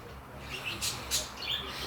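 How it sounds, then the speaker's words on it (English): Pet birds chirp a few short, bright tweets in the background against a quiet indoor room. "you can hear my birds in the background"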